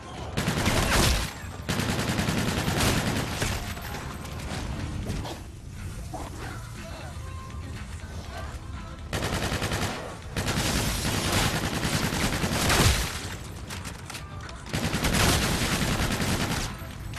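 Gunfire in Call of Duty Zombies in Spaceland, shooting Kindle Pops candies placed on the floor: repeated loud automatic bursts lasting a few seconds each, separated by quieter gaps of game sound.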